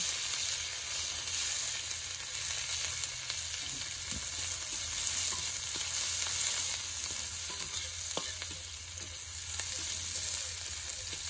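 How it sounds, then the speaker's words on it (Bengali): Cumin and onions frying in a hot wok, a loud continuous hiss of sizzling oil with occasional scraping taps as the pieces are stirred, steady and close throughout. "প্রথমে জিরা, তারপরে পেঁয়াজ দিয়ে নেড়ে নেওয়া হচ্ছে।"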